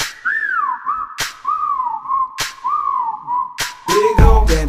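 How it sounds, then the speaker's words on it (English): A person whistles at a woman, a run of loud, close, sliding catcall-style whistles with brief sharp clicks between phrases, ending in a short burst of noise. "Okay, time to whistle at her."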